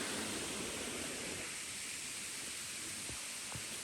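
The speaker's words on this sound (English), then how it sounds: "Water running down the middle of the path here." Water runs down the middle of a forest path in the North Carolina mountains, a steady broadband rush that holds constant and fairly close throughout, with a couple of brief soft knocks near the end.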